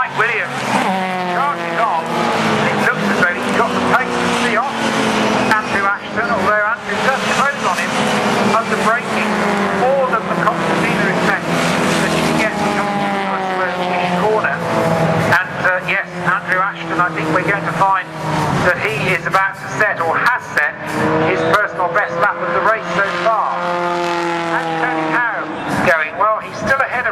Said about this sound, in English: he's giving Dave James the chase up into Paddock Hill Bend as Mike Williams charges on